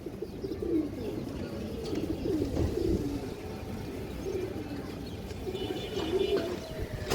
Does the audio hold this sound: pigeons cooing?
yes